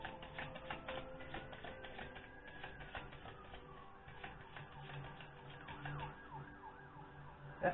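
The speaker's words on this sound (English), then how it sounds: "unusual sirens that I'm hearing in the background" Emergency sirens wail faintly in the distance, their rising and falling tones drifting over a low background hum.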